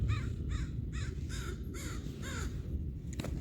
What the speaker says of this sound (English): Confirmation, crow.